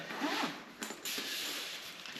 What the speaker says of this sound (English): They zipper shut.